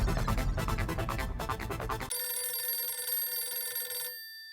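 A telephone rings in a home setting with rapid, bright repeated trilling bursts, loud and close, ending as the ring cuts off to a sustained ringing tone that fades out.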